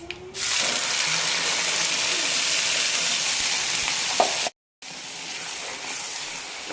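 Ground kara chutney is poured into a hot coconut-oil tempering of mustard seeds, urad dal and curry leaves, bursting into a loud, sustained sizzle that is briefly cut off and then continues, with no talking.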